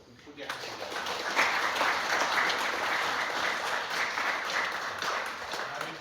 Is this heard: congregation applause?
yes